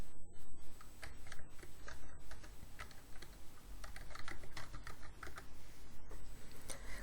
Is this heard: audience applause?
no